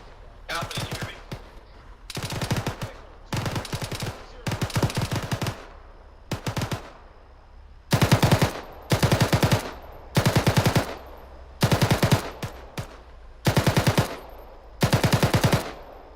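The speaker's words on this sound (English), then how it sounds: "He's shooting the big fucking 50 at us" Bursts of heavy .50 caliber machine gun fire from a gun truck during a military field training exercise, loud rapid rounds in repeated strings separated by short pauses, with a few single shots.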